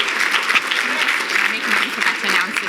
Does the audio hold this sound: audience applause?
yes